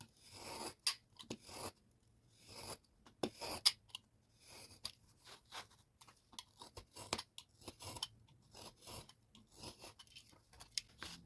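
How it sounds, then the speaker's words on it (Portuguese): A Refile Fácil TEENY trimming tool slides through cardboard, making repeated short crunchy scraping strokes in irregular bursts, close and moderately loud with quiet gaps between cuts. "Escorrega a ferramenta e continua o corte."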